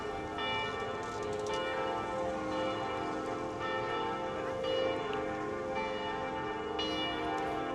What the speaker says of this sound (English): You can hear the chimes from the church on over there.